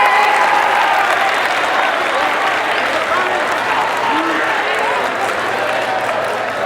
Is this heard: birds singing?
no